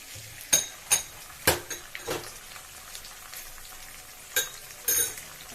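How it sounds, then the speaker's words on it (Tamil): Chicken wing marinade with white vinegar being mixed in a bowl, giving a few distinct clinks and scrapes of a utensil against the dish at an irregular pace, close and fairly quiet. "நல்லா மிக்ஸ் பண்ணிக்கோங்க."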